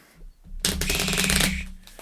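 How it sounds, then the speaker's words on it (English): A deck of Fallout board game cards is riffle-shuffled, giving one quick, close, crisp ripple of flicking cards that lasts under a second and then settles. "Yeah, how about that shuffle sound?"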